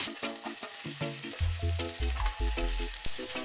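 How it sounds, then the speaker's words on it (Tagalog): Garlic and onion crackle and hiss in a hot kawali, a close, steady sauté with intermittent stirring scrapes and pops throughout. "At sa parehong kawali nga, magisa naman tayo ng bawang at sibuyas."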